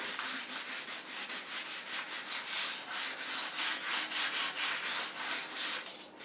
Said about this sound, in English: Hopefully you can see what's happening here as I sand down the edges.